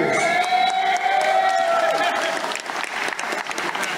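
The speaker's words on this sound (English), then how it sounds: "a round of applause for both these epic warriors" A crowd at a Muay Thai championship fight night claps and cheers loudly for two fighters. The thick, continuous applause carries a few whoops and shouts and eases off slightly near the end.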